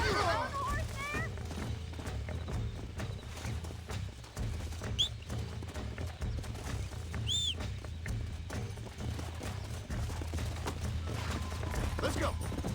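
A horse in Red Dead Redemption clip-clops and snorts with a short whinny, hoofbeats running under a steady low rumble while someone talks over it.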